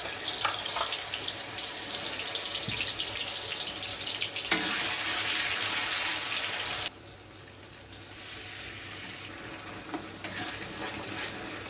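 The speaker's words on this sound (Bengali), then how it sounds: "মশলাটা একটু খুন্তি দিয়ে আমি নেড়ে নিচ্ছি।" Spice paste frying in oil with dried red chilli and bay leaf, stirred with a metal spatula; a loud continuous sizzle with scraping strokes for about seven seconds, then the frying drops quieter with occasional spatula taps.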